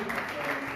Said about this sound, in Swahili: Tumkaribishe mama kwa makofi mazuri.